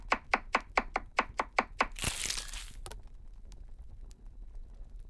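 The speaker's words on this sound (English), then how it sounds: "Chop the meat." A knife chops meat in the Cucina Stellata cooking game with eight quick, evenly spaced thuds, followed by a louder crunching, tearing burst and a few faint ticks as it fades.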